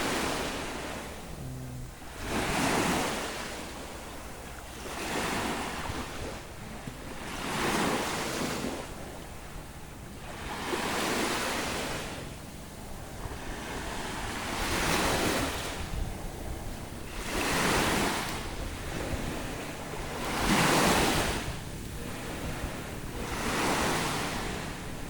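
Sea waves surge and break on the shore at Dauin seaside in Negros Oriental, rolling in loud, steady cycles every few seconds with wind buffeting the microphone throughout and no voices.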